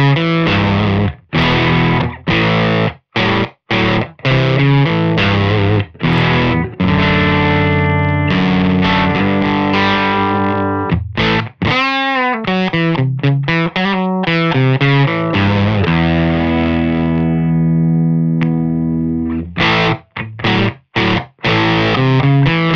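An electric guitar plays through a Valco KGB distortion pedal: loud, gritty, sustained chords and stabs with short pauses between phrases and a bending, wobbling passage midway.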